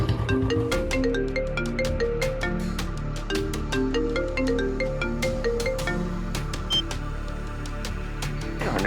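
A mobile phone ringtone plays a repeating electronic melody of bright tonal notes, loud and close, continuing unanswered for several seconds with no voices.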